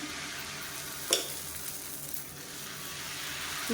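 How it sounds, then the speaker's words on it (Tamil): Dosa batter with asafoetida poured onto a hot pan gives a steady, close sizzle with a brief sharp crackle near the start, with no talking. "தோசையாக ஊற்றிக்கலாம்"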